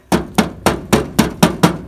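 A hammer strikes the rusted metal of a 1958 Volkswagen bus seven times in an even rhythm, each blow a sharp, loud, close clank with a short ringing decay.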